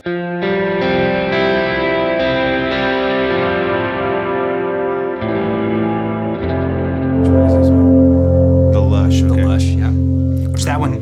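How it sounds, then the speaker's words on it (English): Electric guitar run through a medium reverb on a Quad Cortex, a sustained strummed chord ringing out with a smooth wash of reverb, then a new heavier chord swelling louder in the second half, played alone and close. "Then here's the kind of medium reverb."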